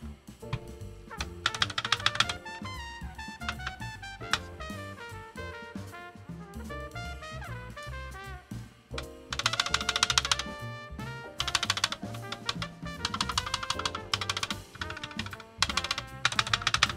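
Rapid typing on an NK65 v2 aluminum mechanical keyboard fitted with Glorious Panda switches, dense clacking keystrokes in uneven bursts, heard close up with tonal sounds running underneath.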